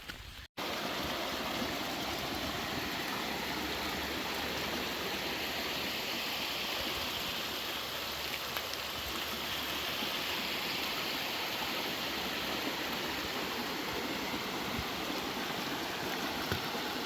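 Steady, dense rain on a wet woodland hike, a constant broadband hiss that stays even and full throughout, close and enveloping with no voices.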